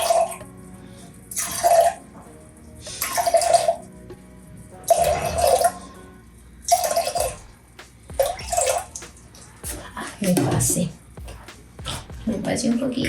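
Hydrosol for a cucumber gel facial cleanser pours into a container in repeated short, splashy bursts separated by pauses, close and fairly loud, with a voice briefly heard near the end.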